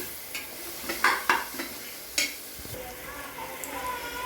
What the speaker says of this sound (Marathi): त्याला आता परतून घेऊया, व्यवस्थित मिक्स करून घेऊया सगळं.